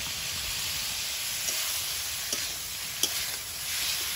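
Potatoes sizzle steadily in a pan with spices and tomato while being stirred, an even close hiss broken by a few sharp spoon clicks against the pan.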